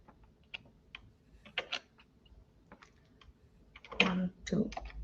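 Keys click on a computer keyboard as a password is entered, sparse quiet taps that build into a quicker burst near the end.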